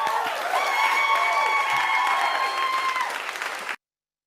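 Audience applause with some cheering, a dense steady wash of clapping that holds strong for several seconds, then cuts off abruptly.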